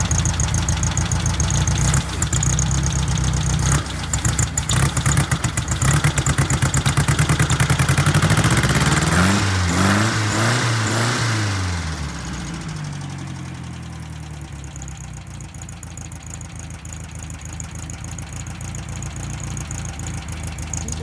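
A Volkswagen Beetle engine idles steadily after a carburetor adjustment, a continuous close mechanical drone that dips slightly in level partway through and then settles at a lower, even hum with no talking.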